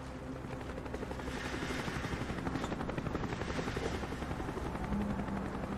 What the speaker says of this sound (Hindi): हमें हेलीकॉप्टर की नज़र में आना नहीं है।